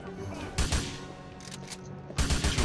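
Gunfire in the video game GTA IV: several sharp bursts of shots crack out in quick clusters over a steady background din, close and punchy.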